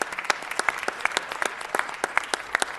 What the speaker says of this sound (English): Give Jackie DuPont Walker a round of applause